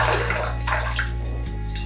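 Coloured water poured from a height into a container, a steady splashing gush that runs throughout, loud and close, with no talking.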